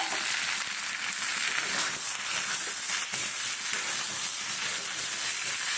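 Spices sauté in oil in a pan over low heat while potato curry is made, giving a steady, close, hissing sizzle that carries evenly throughout with no voices over it.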